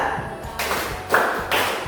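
A classroom of students claps on cue during an ice-breaker game, three ragged group claps in a steady rhythm, close and fairly loud, with faint voices in the room.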